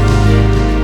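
Electronic snare drum in an Undertale-style track, heard without its widening layer: a short, dry, loud hit with a tonal body that rings briefly, alone with no voices.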